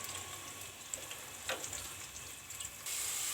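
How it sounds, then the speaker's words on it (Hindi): Onions fry in hot oil in a home kitchen pan, a continuous dense crackling sizzle with small pops, close and steady throughout, with no one speaking. "ये देखिए प्याज हमने डाल लिए हैं इसमें। इसको आपने अच्छे से ऐसे फ्राई कर लेना"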